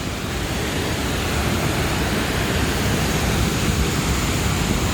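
A small waterfall rushes at a campsite in Norway, a loud, unbroken roar of falling water that holds steady throughout with no voices.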